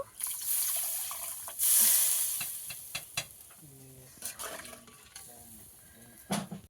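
Sweet potatoes sizzling in a pan, loud frying hiss with scraping stirs, then water poured in, bringing a brief burst of splashing and bubbling before quieter intermittent scrapes and clinks.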